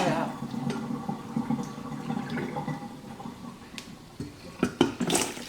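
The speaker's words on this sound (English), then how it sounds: "Pour that out." Water is poured out of a cooking pot in a home kitchen, a short splashing pour with drips and clatter near the end, while people talk nearby.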